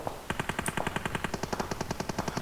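Rapid automatic gunfire in the mobile battle-royale game PUBG Mobile, a steady stream of close, loud shots in an even rhythm lasting a couple of seconds, with no talk over it.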